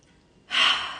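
A single deep inhalation begins about halfway through, a breathy airy rush that swells quickly and holds, close and clear after near silence.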